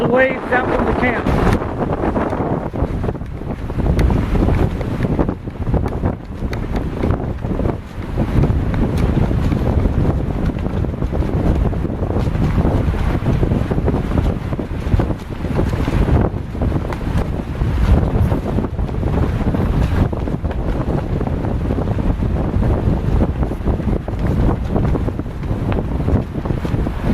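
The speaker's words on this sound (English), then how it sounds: "That's the waves out from the camp." Steady wind buffeting and lapping waves heard from a lakeside camp in the Boundary Waters during fall, loud, constant rushing noise filling the whole stretch with no pauses.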